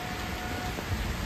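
Morning rain falling, a steady dense hiss of broadband noise without distinct drops, even and continuous over the short stretch with no voices.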